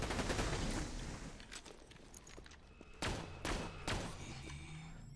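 The Pimpernel sniper rifle in Borderlands 2 fires several sharp, evenly spaced cracks during a raid boss fight, following a burst of dense gunfire at the start, with game effects in the background.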